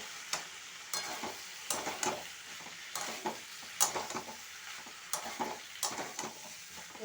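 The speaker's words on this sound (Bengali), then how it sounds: "এবার আমি ফুলকপিগুলো, ভাজা ফুলকপিগুলো এতে দিয়ে দিচ্ছি," Fried cauliflower stirred and sautéed in spice masala for a Bengali roast, repeated scraping strokes of a spatula against the pan in a loose rhythm over a continuous close sizzle.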